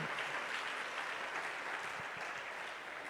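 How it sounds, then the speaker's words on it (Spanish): A church congregation applauds during a service, producing steady, fairly soft clapping from many hands that holds evenly for a few seconds without talk. "Demos un aplauso al Señor en esta hora."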